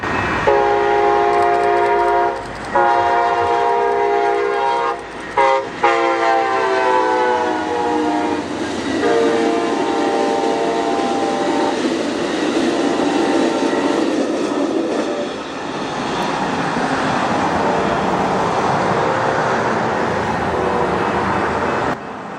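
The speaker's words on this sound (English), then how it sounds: "with Amtrak bumping up the speed, we'll see it dart through this tiny town" An Amtrak passenger train speeding through the small town of East Bernard, Texas: a loud, sustained multi-tone horn blast gives way to the roaring rush and rattle of the train passing close by, with no voices.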